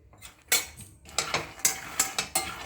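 A utensil stirs peanuts and sesame seeds as they dry-roast in a pan, giving repeated close metallic scrapes and rattling clinks in an irregular rhythm of about eight strokes, heard alone.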